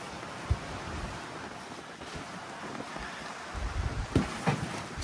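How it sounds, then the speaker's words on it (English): Strong outdoor wind buffeting and roaring across the microphone, a steady rushing noise with a few sharper gusts and thumps toward the end, no voices. "the wind is getting pretty strong"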